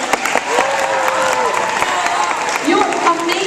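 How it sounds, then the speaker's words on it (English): An audience claps in a warm, sustained round of applause at a speaking event on patriotism, dense and fairly loud throughout, with some voices mixed in. "Please just give them a round of applause."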